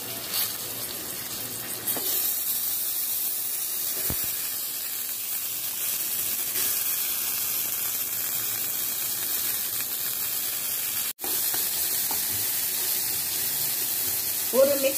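Mustard seeds, urad dal and chillies sizzle steadily in hot oil during a South Indian tempering, a continuous close frying hiss that holds for the whole stretch with a brief dropout near the end.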